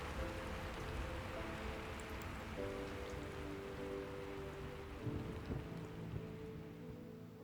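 Steady rain pours onto surfaces during a thunderstorm, forming a dense continuous hiss with a low rumble underneath that swells slightly partway through, heard at a fairly soft level with no voices.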